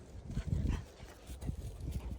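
Hunting dogs running around outside on a farm, with soft irregular thumps, footfalls and faint snuffling close by, no talk.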